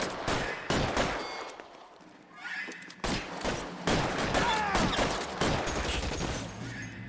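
Tommy gun bursts in L.A. Noire, a rapid, loud stream of automatic gunfire broken by brief pauses, close and dense, with faint whizzing and impact noises in between.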